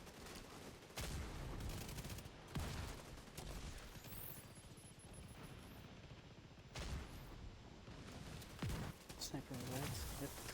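Sustained bursts of rapid gunfire in a video game boss fight against the Iron Horse, shots crackling steadily over ten seconds with louder volleys and a voice speaking over the shooting.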